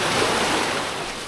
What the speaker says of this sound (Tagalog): Taas ng alon.